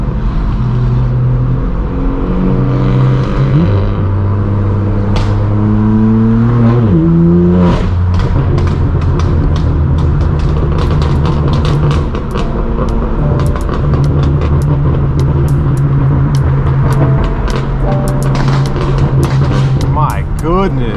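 Straight-piped BMW M4 F82 coupe and two F80 M3s accelerating hard, loud exhaust drone with rising revs and shifts, and sharp crackles and pops through the latter half, continuous and close throughout.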